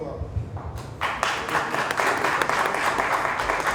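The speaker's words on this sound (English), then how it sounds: "So give my first lady a hand of applause" Audience at an annual homecoming dinner applauding the first lady: a swelling wash of clapping that builds after a second and holds steady, filling the room, with a voice briefly heard at the start.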